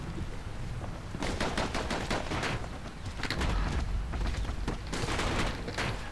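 Pincushion enemies in the video game Bastion fire off rapid bursts of shots, dense crackling volleys in quick irregular runs with occasional heavier booms, loud and close with no talk.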